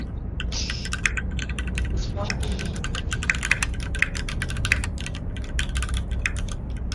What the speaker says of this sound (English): Furious typing. And the mechanical keyboard is real over there.